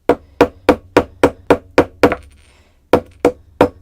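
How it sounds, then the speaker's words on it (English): A ball peen hammer's flat face strikes a small metal bead cap on a tabletop, ringing out in a steady run of sharp, loud, close blows, about seven, then a short pause and three more. "I'm using a ball peen hammer and just hammering with the flat side"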